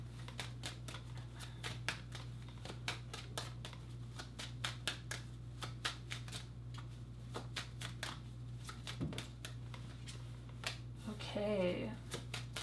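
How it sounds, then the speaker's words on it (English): Tarot cards are shuffled in quick, crisp riffling bursts, a fast run of light papery snaps over a steady low hum, with brief voice sounds near the end. "let's get some tarot cards."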